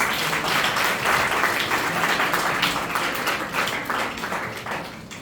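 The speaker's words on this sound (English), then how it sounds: "Ladies and gentlemen, please give them a big round of applause." An audience at a school-hosted media conclave gives guests a round of applause, a thick burst of many hands clapping that starts strong and slowly tapers off.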